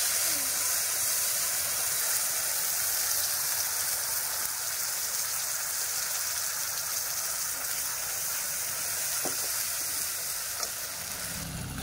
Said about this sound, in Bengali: এটা আমি তেলে দিয়ে দেবো।